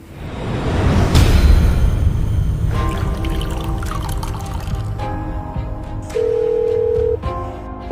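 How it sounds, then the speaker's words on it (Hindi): A telephone busy tone: one steady electronic tone lasting about a second near the end, following a stretch of rustling, clattering handling noise. "उनका फोन बिजी आ रहा है।"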